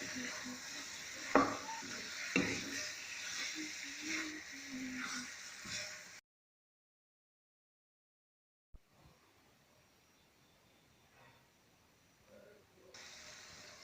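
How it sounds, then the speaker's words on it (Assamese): Chicken pieces frying in a pan with salt, a steady close sizzle with stirring scrapes for several seconds, then a sudden silence and a quieter, fainter sizzle returning near the end. "আৰু এতিয়া মই এয়া ভাজি লৈছোঁ"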